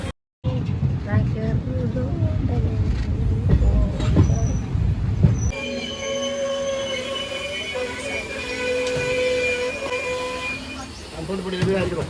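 A train rumbles heavily along the tracks, then eases into a smoother ride with high metallic squealing and whining tones.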